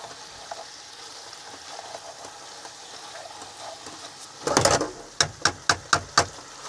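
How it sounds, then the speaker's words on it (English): Meat frying in a pan inside a camper van: a low background sizzle, then a louder burst and a row of sharp, evenly spaced knocks or taps near the end. "I always fry the meat off first"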